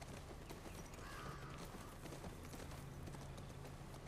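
Horse hooves clip-clop steadily in The Last of Us Part II, a quiet, continuous rhythmic plodding over a low ambient game background with no talk.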